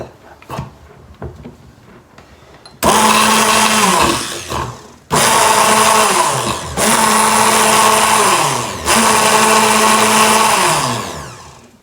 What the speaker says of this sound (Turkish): Tekrar çırpıyorum.